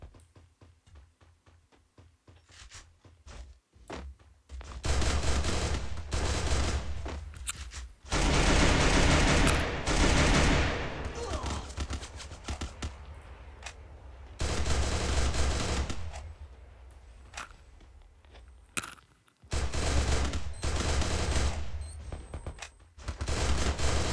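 Gunfire in an online shooter game, heard as loud sustained bursts of automatic fire several seconds long, separated by short pauses and scattered single shots, close and dominant.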